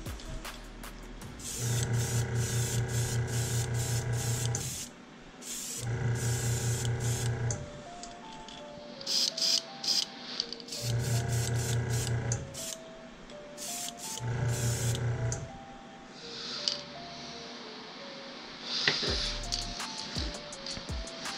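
An airbrush sprays paint onto Big Ernie musky lures in a walleye pattern, giving four or five steady hissing bursts of a few seconds each with short pauses between, heard over background music.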